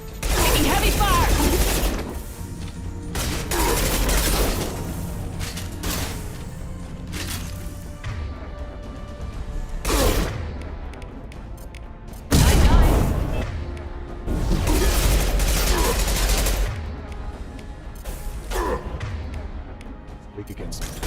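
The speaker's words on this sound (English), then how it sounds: "Taking heavy fire!" Heavy gunfire in the video game Mass Effect, with loud repeated bursts and booming impacts rolling in waves over a busy combat soundtrack, under game voices.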